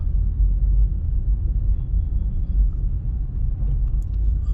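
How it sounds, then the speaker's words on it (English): A car drives through the quiet residential streets of Silverstone in Portmore, giving a steady, close low rumble of engine and road noise for the whole stretch, with no talking. "just taking a drive around"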